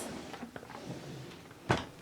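A makeup storage drawer holding eyeshadow palettes slides open with one short, fairly loud scrape and clunk near the end, following quiet indoor rustling and faint handling noises.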